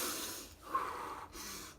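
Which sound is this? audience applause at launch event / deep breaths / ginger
deep breaths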